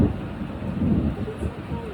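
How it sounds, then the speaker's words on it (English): Deep, continuous rumble of thunder rolling through a severe thunderstorm, loud and broad with steady low energy over the whole stretch, rain faintly beneath and no clear voices. "The thunder gives you warning for the lightning."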